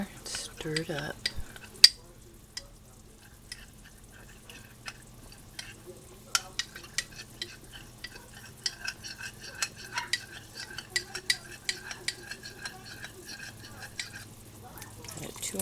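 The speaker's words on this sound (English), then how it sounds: "Add some water, stir it up." A spoon stirs cornstarch and water in a small bowl, making quiet, irregular clicks and light scrapes over about fifteen seconds, with a soft voice briefly heard.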